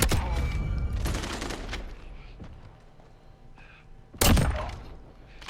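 Double-barrel shotgun firing slugs in Modern Warfare: heavy booming blasts with thuds, one loud sharp shot standing out near the end amid quieter game ambience.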